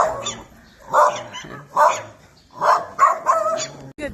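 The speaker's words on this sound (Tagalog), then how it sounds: "Hinahabol ang mga aso." Dogs bark repeatedly outdoors during a walk, several close, loud barks in an irregular series with short gaps between them.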